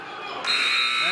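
A loud, sustained electronic buzzer sounds at a high school basketball game between Gonzaga College and Mt St Joseph at Morgan State. It starts partway through over crowd noise and commentary, then holds steady to the end.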